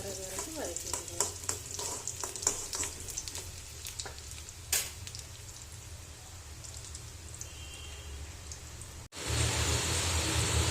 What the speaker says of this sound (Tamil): வெங்காயம் கொஞ்சம் கோல்டன் ப்ரௌன் வர்றது வரைக்கும் வதக்கிக்கலாம்.